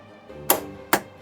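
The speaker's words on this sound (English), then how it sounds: "These are the solenoids," Two sharp mechanical clacks from the solenoids of a virtual pinball machine fire about half a second apart, loud and close, with quiet background between them.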